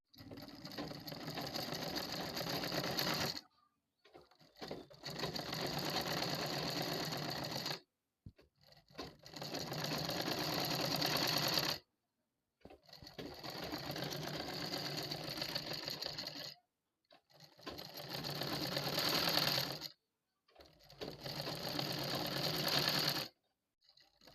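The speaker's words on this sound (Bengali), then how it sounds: "এরপরে সেলাই বসিয়ে নেব পুরো গলাটা এভাবে সেলাই দিয়ে নিতে হবে" A sewing machine stitches around the round neckline of a nightie, running steadily in five close, fairly loud passes separated by short silent pauses, with no talking.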